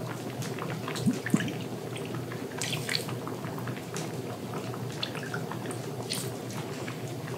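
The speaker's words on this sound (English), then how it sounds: "And then we need to add lime juice" Lime juice poured into a chili base for canning, a light trickle and scattered drips against a low background hum, fairly close and quiet, with a couple of small clinks near the start.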